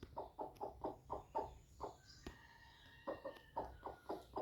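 A brooding hen sitting on her eggs gives a steady run of low, throaty clucks in regular pulses, with a brief pause before the clucking resumes, close by and alone with no talking.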